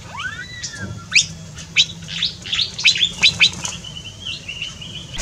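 A songbird chirps close by in quick, bright bursts, a rising whistle at first and then a run of sharp tweets over quiet background.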